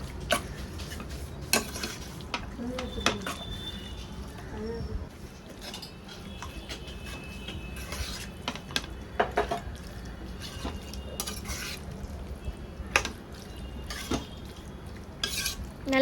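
Mutton curry masala with mint leaves being stirred in an oily pan, a spoon scraping and clinking against the metal in repeated strokes over a steady background, with a voice talking at times.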